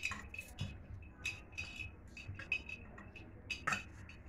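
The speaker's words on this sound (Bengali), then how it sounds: "এবার সেই আমগুলোকে আমি তুলে একটা বাটির ভিতরে তুললাম" Pieces of raw green mango being lifted and dropped into a bowl, giving a series of faint, close clinks and light knocks spaced irregularly, with no talking.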